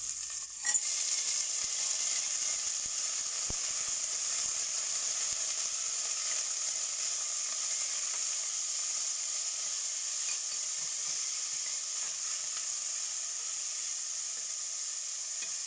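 Carrots and peas drop into a hot pan of popping spices for vegetable pulao, and a steady, close sizzle and frying hiss continues evenly throughout, with no talk.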